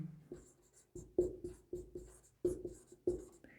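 Chalk or marker strokes on a board while a chemistry formula is written, a series of short scratchy taps and scrapes in an irregular rhythm, close and fairly quiet, with no talking.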